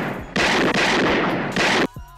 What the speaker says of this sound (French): il décide de lui tirer 6 coups avec le fusil